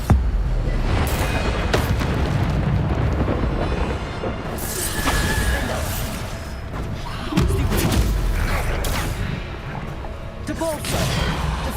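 Bombarda explosion spells cast again and again during combat in Hogwarts Legacy, giving loud repeated booms and crashes amid a dense, busy battle mix with voices shouting over it.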